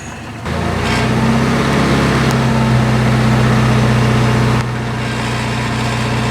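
A car engine is raised to about 2,000 RPM for an alternator test, settling into a steady, loud hum that holds for several seconds before easing slightly.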